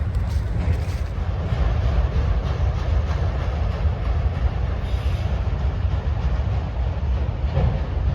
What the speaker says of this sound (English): Just wait for this train to pass by here.